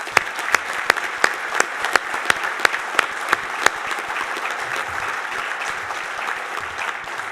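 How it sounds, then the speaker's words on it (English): A hall of fame induction crowd in a hall gives a full round of applause. A few sharp, close claps stand out at the start over the dense clapping, which keeps going steadily throughout. "If you'll please give Scott an appreciation and a round of applause."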